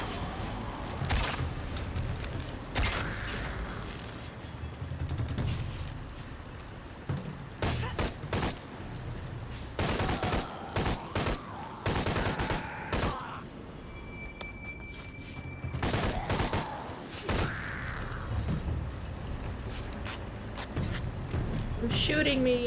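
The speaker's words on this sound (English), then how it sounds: "Who's shooting me?" Gunfire in Shadow of the Tomb Raider comes as scattered bursts of shots and impacts over a game soundscape, with a person talking loudly throughout.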